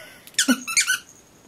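A Lamaze baby toy squeaks in a quick burst of three or four short, bright squeaks, close and clear against a quiet room.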